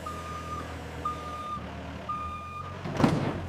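Reversing beeps from forklifts and trucks in a candy warehouse sound in a steady repeating pattern of spaced tones over a low idling engine rumble, ending with a louder burst of truck noise.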